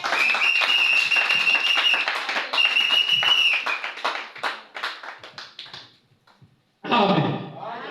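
A church congregation claps together in praise of the Lord Jesus, a dense, loud burst of hands mixed with voices and a sustained sung or shouted tone, fading out, then a fresh swell of clapping and cheering near the end.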